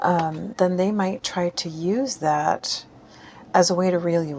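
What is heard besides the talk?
No distinct noise like a dog, phone or traffic.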